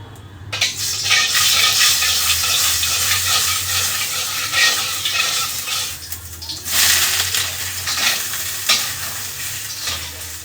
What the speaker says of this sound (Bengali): ওই জন্য একদম অল্প তেল দিয়ে তারপর সয়াবিনটা ভেজে নিতে হয়